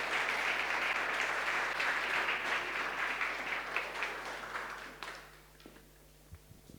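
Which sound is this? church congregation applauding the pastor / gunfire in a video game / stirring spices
church congregation applauding the pastor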